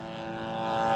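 An RC scale model of a Douglas SBD Dauntless dive bomber flies at the Joe Nall 2025 fly-in at Triple Tree, its steady propeller engine drone holding and slowly growing louder as it approaches, with no voices over it.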